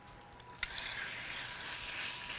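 Onions sizzling in a frying pan in a Lebanese home kitchen, with one sharp tap near the start and then a soft, steady frying hiss that stays quiet and close.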